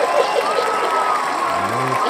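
Canned crowd applause from a sound effect fills the room steadily and loudly for a couple of seconds, with a voice talking over it near the end.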